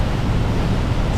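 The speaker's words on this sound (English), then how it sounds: "This is one of the waterfalls of Iraq, but this one actually is the biggest and the longest waterfall in entire Iraq" Roaring white rush of the biggest waterfall in Iraq, in Erbil, Iraqi Kurdistan, a loud, steady, close wash of falling water with no break.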